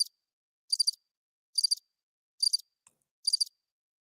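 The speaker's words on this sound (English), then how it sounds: "Crickets." Crickets chirping in short, evenly spaced trills, four clear bursts about a second apart against complete silence.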